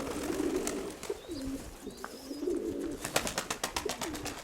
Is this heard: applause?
no